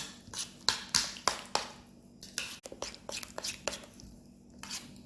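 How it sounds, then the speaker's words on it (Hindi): Yogurt raita is stirred in a working bowl with a spoon, producing a string of close, irregular taps and clinks against the bowl, with soft squishy mixing between them. "इसको हम अच्छी तरह मिक्स कर लेते हैं।"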